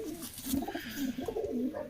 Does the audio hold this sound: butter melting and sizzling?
no